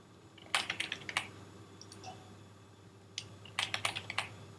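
A folder name is typed on a Mac computer keyboard in two quick bursts of close, crisp key clicks separated by a short pause.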